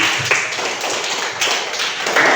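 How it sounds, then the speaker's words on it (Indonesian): A Grade 4 class claps hands together for classmates after an evaluation, a dense patter of many small hands close by, with a few louder sharp slaps standing out. "Oke, tepuk tangan untuk semuanya"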